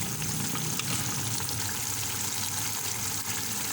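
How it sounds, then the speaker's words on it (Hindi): Steady water pouring and splashing into a pot of mutton korma, a continuous bright rush with no talking, close by. "मैं ये 4 गिलास पानी डाल रही हूँ।"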